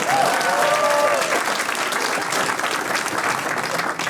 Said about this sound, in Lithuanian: Paulius Ambrazevičius, plojimai